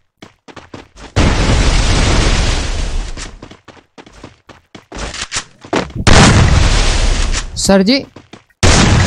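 Loud gunshots and bursts ring out in a Free Fire battle, several sharp blasts separated by short gaps, with a voice briefly speaking between them.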